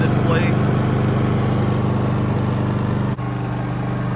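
A Westinghouse iGen 4500 inverter generator idles with a steady, even mechanical hum and tonal drone close by, holding level throughout apart from a brief dip near the end.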